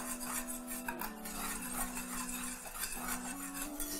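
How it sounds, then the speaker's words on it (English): A whisk scrapes and clinks rhythmically against a metal pot while dry okra is stirred in over low heat, close and steady, with a faint tonal hum running beneath. "And I'll just whisk in my dry okra."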